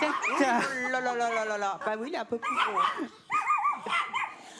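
A pet dog named Dofus yelps and whines in a drawn-out, wavering cry, followed by shorter yips. A person talks over and between the sounds.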